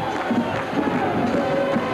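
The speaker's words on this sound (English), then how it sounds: "And the Dayton crowd is celebrating." At a 1981 NCAA Division III football championship, the Dayton crowd cheers after a touchdown, a dense roar of many voices sustained at a steady, loud level.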